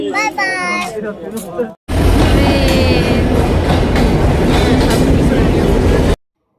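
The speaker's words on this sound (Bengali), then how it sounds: "জাস্ট টাইমে আমাদের ট্রেনটা চলে আসছে" A passenger train rolls loudly into a station on the Kushtia–Dhaka route, a steady rumbling roar with rail clatter that fills the scene after a short stretch of talk, then cuts off abruptly.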